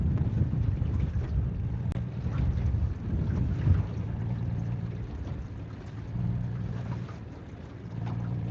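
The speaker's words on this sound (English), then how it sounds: "This wind is gonna kick our butt today." Steady wind buffeting a fishing boat out on a reservoir, a constant low rumbling roar with gusty swells that fill the whole stretch, no voices over it.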